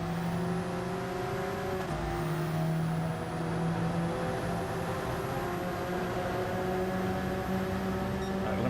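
Race car engine in Gran Turismo 7 drones steadily at high revs throughout, a loud continuous whine with sustained harmonic tones and no talk.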